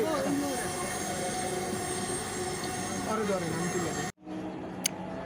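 A Dhaka metro rail train running between TSC and Motijheel, its steady rumble and squealing wheels filling most of the clip before cutting off abruptly near the end, leaving a quieter interior.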